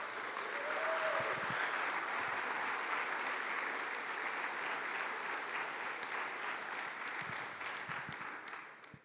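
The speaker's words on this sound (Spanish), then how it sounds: "Gracias por aplaudir." Steady, dense applause from a church congregation fills the space for several seconds, evenly sustained and fairly distant, then tapers off at the end with no talking over it.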